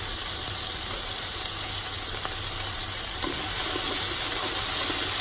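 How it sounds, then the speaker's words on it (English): Onion and garlic sizzling and frying steadily in an oiled pan while being stirred, a continuous close hiss with faint scraping, for a vegetarian Mì Quảng. "I got onion, so all the good stuff. So just stirring around."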